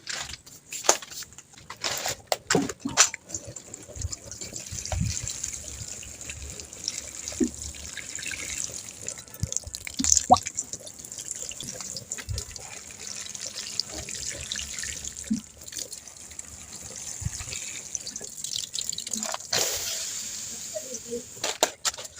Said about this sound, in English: now I'm going to water them in.